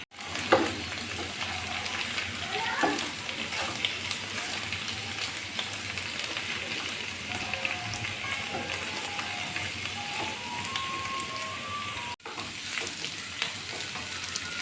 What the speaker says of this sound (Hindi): तो हमने ये इसमें मूली और शलजम की भुजिया डालकर हल्दी, नमक और ये कुटी हुई मिर्ची शामिल कर दिए। अब इसको हम चला लेंगे।